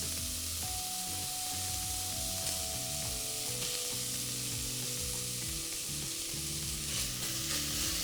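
Red Thai curry paste sizzles and fries in a hot pan with garlic, a steady close crackle with occasional stirring scrapes underneath low background music, and no talking.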